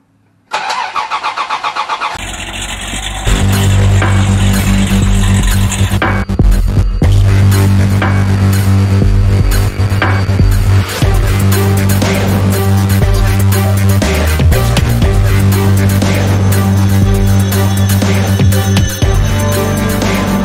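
A Dodge Ramcharger's Slant 6 engine, left sitting for nine months, fires up after a brief cranking burst and settles into a loud, steady, throbbing run that continues close by without any talk.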